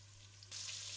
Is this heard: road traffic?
no